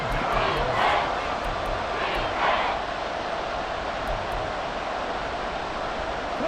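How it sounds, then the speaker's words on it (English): A stadium crowd roars at Arrowhead during a Chiefs versus Colts EA Sports football video game: a dense, continuous wash of cheering noise with swelling surges early on, heard alone without talk. "The Arrowhead crowd in full roar."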